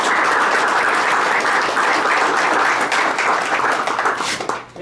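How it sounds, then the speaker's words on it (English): A meetup audience at a Node.js presentation gives a round of applause for the two presenters, steady dense clapping close by that tapers slightly at the end. "Maybe just one more round of applause for both Ben and Brad."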